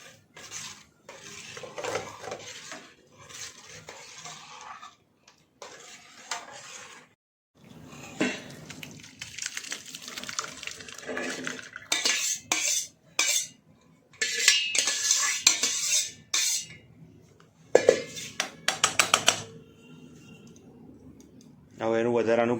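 Rasmalai chhena being poured and strained through a cloth into a steel pot, with intermittent clinks, scrapes and clatter of utensils in short bursts, some trickling water, and a voice talking between them.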